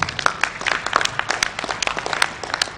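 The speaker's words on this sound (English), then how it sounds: "A round of applause for Dr. Sharif, please." Conference attendees at a financial fraud and cyber crime event applaud a speaker, Dr. Sharif, with moderate, fairly sparse clapping whose individual claps stand out throughout.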